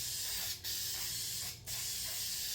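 An aerosol spray can hisses steadily as it coats truck taillights with tint, a continuous close spray broken by two brief pauses before resuming.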